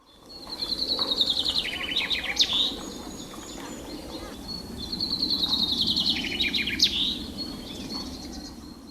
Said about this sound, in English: Birds from Flanders sing a song which ends with a particular flourish